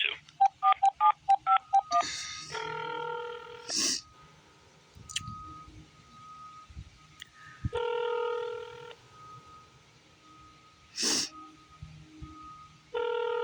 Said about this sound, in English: You dial 4751, an old extension for Eternal Affairs.